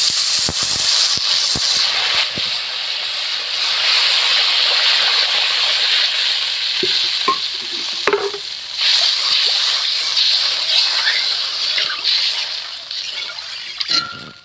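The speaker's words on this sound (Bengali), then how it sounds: "এখন আমি দিয়ে দেব জল। ঝোলের জল দিয়ে দিচ্ছি।" Water is poured into a simmering spiced magur fish curry, a strong rushing, splashing stream that runs almost continuously, with a few metallic clinks from the pot.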